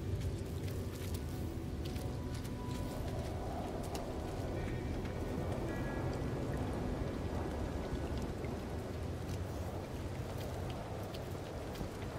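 Heavy rainstorm in the survival game No Man's Sky: a dense, continuous roar of rain hissing steadily throughout, with faint rumbling underneath and no talking.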